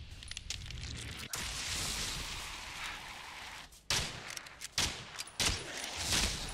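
Gunfire at enemies in Evil Dead: The Game, loud sharp shots in short bursts and pairs separated by brief gaps, with sustained rumbling noise between them.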